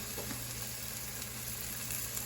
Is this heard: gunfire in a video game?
no